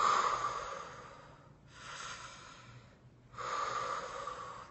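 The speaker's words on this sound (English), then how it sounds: "breathe in deep again" A deep belly breath drawn in through the nose and mouth during a voice-projection exercise, heard as two long airy inhalations separated by a pause, close and fairly quiet with no talk.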